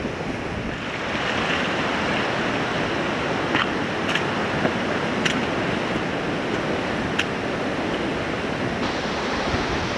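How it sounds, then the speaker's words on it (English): Water rushes steadily through rocks near Steall Falls in Glen Nevis, a constant broadband roar with wind buffeting the microphone and a few brief clicks, nearby and unbroken throughout. "The water flowing through the rocks down there, it's crazy, it's magnificent."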